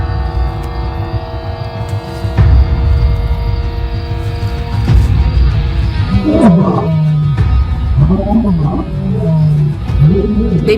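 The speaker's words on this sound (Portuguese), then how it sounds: "eu continuei ouvindo rugidos no campo e ao redor do alojamento" Lions of the Mapogo coalition roar in the wild near a safari lodge at night, a series of deep rising and falling calls over a steady insect-like drone, fairly close and loud.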